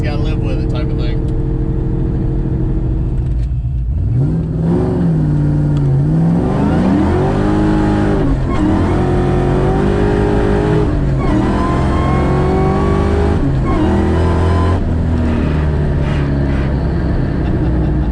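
A 2003 Ford Mustang Mach 1 V8 engine pulls loudly from inside the car as it accelerates, revs rising and falling through gear changes, with someone talking over the steady engine drone.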